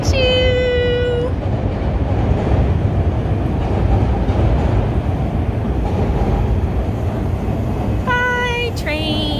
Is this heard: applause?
no